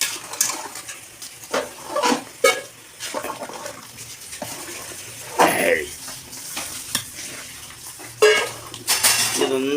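Chicken curry with ground coconut stirred in a pot, irregular bursts of a spoon scraping and clinking against the metal vessel amid soft bubbling, close and fairly loud.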